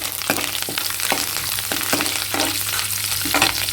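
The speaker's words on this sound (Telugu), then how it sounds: "పోపు గింజలు కూడా వేసేసాను వేగిపోతున్నాయి" Tempering seeds, garlic cloves and curry leaves fry in hot oil for a mango pickle, giving a steady close sizzle punctuated by regular light clicks of stirring.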